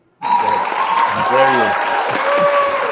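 A burst of applause begins abruptly and keeps up as a steady clapping wash, with a voice briefly heard over it during a podcast episode.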